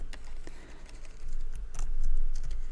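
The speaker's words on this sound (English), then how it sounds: "Just hit 2 on my keyboard" Computer keyboard keys are pressed a few times during Photoshop editing, giving light, scattered clicks at close range with no talking.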